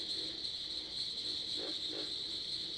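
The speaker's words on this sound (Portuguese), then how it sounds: "tem cigarras, grilos e tem uns sapos ali, principalmente" Layered nature ambience of cicadas, crickets and frogs used for a suspense film sound design: a steady high insect drone runs throughout, with two short frog croaks rising near the end.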